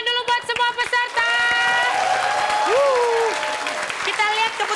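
A TV comedy game-show audience claps for all the contestants, with steady applause swelling after a brief opening and running under tonal music and a voice.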